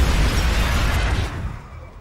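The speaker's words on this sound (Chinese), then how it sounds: "林三模拟了爆炸时的情景，当时弗拉克、史密斯以及麦叔三个人离炸弹非常近。" A simulated cell phone bomb explosion produces a loud, dense burst of roaring noise that holds for about a second before fading quickly into quieter rumble.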